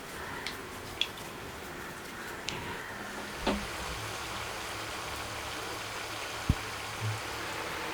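Water boils with hibiscus flowers in a pot for making halwa, producing a steady bubbling hiss with a few faint clinks over it.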